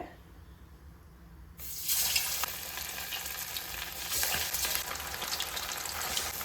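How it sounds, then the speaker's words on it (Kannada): Green kebab dropped into hot oil, bursting into a loud, dense sizzle that continues steadily with crackling spikes, close up and with no talk. "ಈ ಕಡೆ ಕಬಾಬ್ ಹಾಕ್ತಿದೆ"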